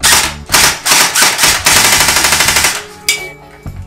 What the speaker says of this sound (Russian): производится контрольный выстрел.